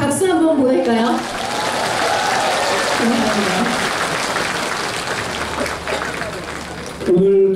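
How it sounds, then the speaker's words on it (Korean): Outdoor crowd at the 2016 Baekje Cultural Festival in Buyeo, South Korea, during an MBC Gayo Best music broadcast, applauding in a long, full burst of clapping, starting right after a presenter's voice and fading as speech returns at the end. "여러분 이럴 때 박수 한번 보낼까요?"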